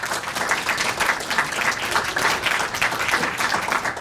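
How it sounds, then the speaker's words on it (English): An audience applauds Glenview Chamber board members at the State of the Village 2023 event, with dense, loud, sustained clapping from a crowded room that keeps an even level all the way through. "Please give them a round of applause."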